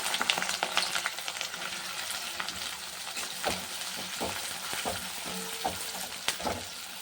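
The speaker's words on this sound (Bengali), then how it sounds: "এবার এই পেঁয়াজটা দিয়ে দিলাম" Onion frying in oil with bay leaf, dried red chilli, cardamom and cinnamon, a steady close sizzle with a run of spatula scrapes and knocks against the pan.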